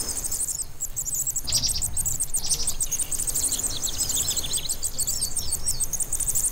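A cuckoo chick being fed by a Korean parrotbill at the edge of a shallow river and grassy bank, with rapid high-pitched chirping and begging calls close by over a steady rush of flowing water.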